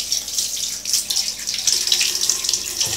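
Tap water runs loudly and continuously over a fishing spinning reel being rinsed, with a splashing, fluctuating hiss close by.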